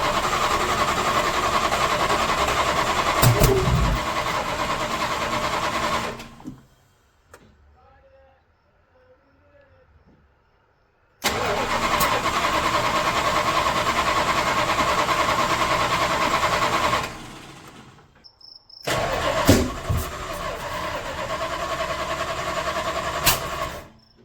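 A Plymouth Fury's 383 V8 engine with newly set carburetor and timing starts and idles roughly, its loud, steady rumble cutting out and firing up again twice, with brief quiet gaps between runs.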